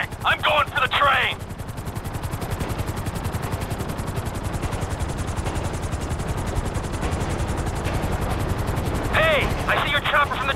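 In GTA 5, a helicopter's rotor thumps in a fast, steady pulse throughout, with bursts of rapid gunfire at the start and end.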